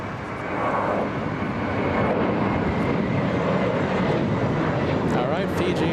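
Passenger jet at LAX airport producing a continuous loud rumbling roar, with a person talking over the engine noise throughout.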